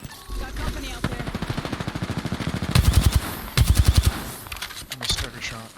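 Automatic gunfire in Apex Legends: rapid, evenly spaced bursts of shots, several long strings with brief pauses between, close and loud over the game's background.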